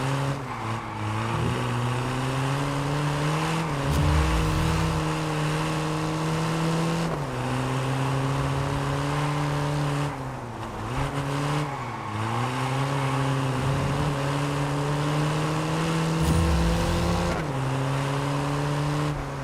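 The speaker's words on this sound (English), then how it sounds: "Little handbrake action." Handbrake drift in the racing game Test Drive Unlimited Solar Crown: a steady, loud car engine drones throughout, with pitch dips and swells as the car slides and revs through turns, no voices.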